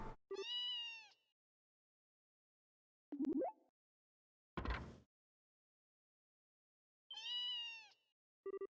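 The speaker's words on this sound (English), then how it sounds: "Kitty! Are you kidding me? A cat?" Cat meows in the video game Trails in the Sky the 3rd: two long, clear harmonic meows near the start and end, separated by brief short sound effects and silence.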